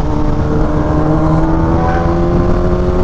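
Kawasaki Ninja H2 motorcycle with an aftermarket quick shifter, its engine roaring loud and close in a steady, continuous drone.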